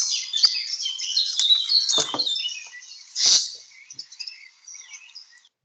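Bird singing from a nearby tree in a forest, a busy stream of high, bright chirps and trills that is close and clear, fading to softer scattered notes toward the end.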